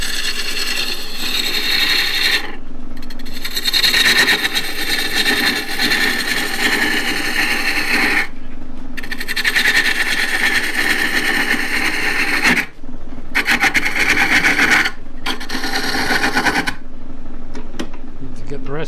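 A small wood lathe spins a large pawn blank at 800 RPM, giving a steady mechanical whir with scraping bursts of cutting tool on wood that stop and start several times over nearly twenty seconds.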